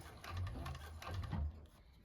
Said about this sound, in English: And now we'll just sew the rest of it down.